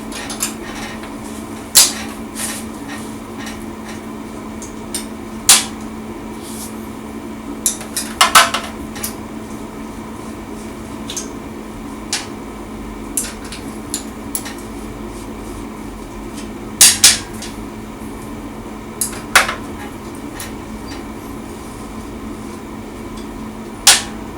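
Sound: 10 mm wrench on bolts of Mustang 125 motorcycle cylinder head

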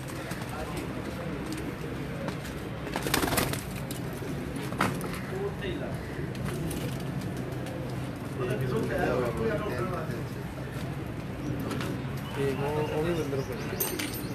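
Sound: pigeons on a rooftop, flying and cooing

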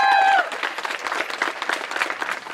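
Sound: applause at a wedding

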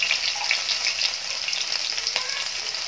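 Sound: asafoetida, green chillies, ginger and garlic frying in oil

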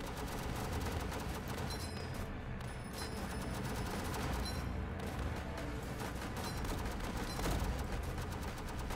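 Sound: machine guns firing in the video game World War Tower Defense

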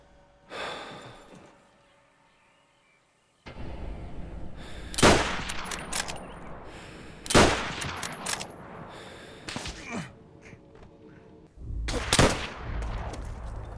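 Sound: M1 Garand rifle gunfire in World at War video game

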